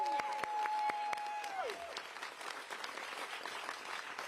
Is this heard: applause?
yes